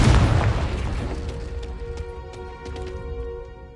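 A Confringo spell explosion in the Hogwarts Legacy video game bursts loudly at the start, then decays into a long ringing tail with sustained magical tones.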